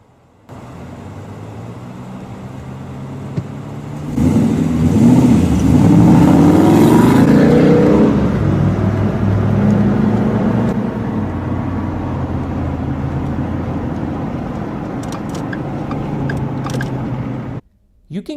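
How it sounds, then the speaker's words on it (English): A Ford S650 Mustang V8 engine revs loudly with manual shifting, a deep rumble that swells sharply, holds strong for several seconds, then drops back to a steadier drone before cutting out. "You can clearly hear the beautiful V8 sound from that clip"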